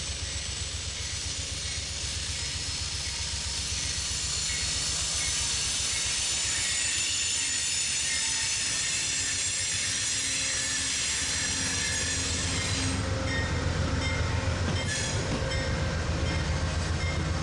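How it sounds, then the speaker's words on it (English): An Amtrak passenger train rumbles past at close range in Harpers Ferry, a steady broadband roar of wheels and rail noise with a faint squeal, swelling slightly toward the end. "Here the Amtrak train from Cleveland, Ohio to Washington, D.C. with a stop in Harpers Ferry."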